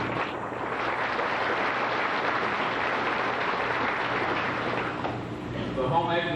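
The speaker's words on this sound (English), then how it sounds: "Let's give them a round of applause." Sustained applause from a banquet crowd thanking the cooks and pork producers at a 1992 Casey County FFA banquet, steady and dense throughout, easing slightly near the end.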